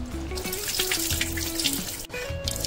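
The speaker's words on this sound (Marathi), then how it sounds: "पाणी टाकून थोडं उकडून घेते जरा" Water gushes steadily from a tap into a pot holding soaked lentils and peanuts, ready to boil for Maharashtrian aluchi amti. The stream runs continuously and close by, with a slight change in pitch as the pot fills.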